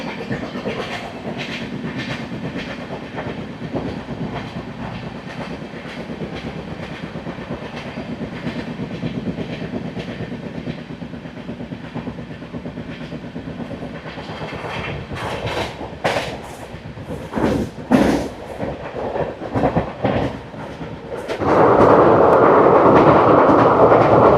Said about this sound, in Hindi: ये है मीराबाड़ी गुवाहाटी पैसेंजर।